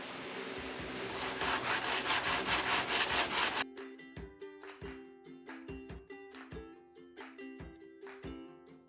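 Hand sanding the body of a 1987 Jeep Wrangler with sandpaper: a dense, continuous scratchy rubbing at first, then separate rhythmic strokes, close and fairly quiet.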